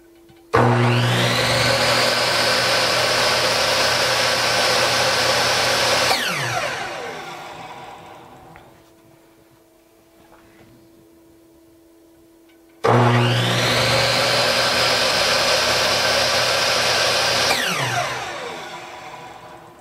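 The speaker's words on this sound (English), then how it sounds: "I'm going to turn the saw on" A power saw runs on a Go Power 2000 watt inverter, starting up loud, revving and holding a steady whine for several seconds, winding down to a quiet hum, then starting again and running strongly.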